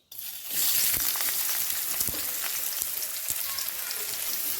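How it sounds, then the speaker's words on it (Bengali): Chopped onion drops into hot oil already seasoned with cardamom, cinnamon and cloves for a yogurt chicken dish, bursting into a loud, steady sizzle with crackling pops that holds evenly throughout, no voices. "এখন এর মধ্যে পেঁয়াজ কুচি দিয়ে দেবো"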